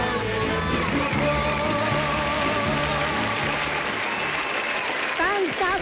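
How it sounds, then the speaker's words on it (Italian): A studio audience at an Italian variety show applauds steadily throughout, the dense clapping running under a voice and tonal singing or music that rises near the end. "questi applausi non sono stati comandati da nessuno"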